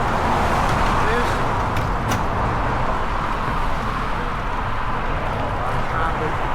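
Steady roadway traffic roars along an adopted stretch of highway, a continuous, loud broadband rumble with no gaps.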